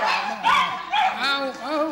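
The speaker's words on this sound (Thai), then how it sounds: "ปล่อยหมาปล่อยลงไปมันนั่งเห่าอยู่" A dog yelps and barks in short whining bursts while someone talks over it, the dog's cries rising and falling close by.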